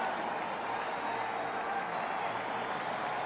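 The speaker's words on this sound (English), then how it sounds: "Standing ovation now." Steady applause and crowd roar fill a basketball arena during a standing ovation for Mark Price of the Cavaliers against the Bulls at the Coliseum at Richfield, Ohio, a continuous distant wash of clapping and cheering.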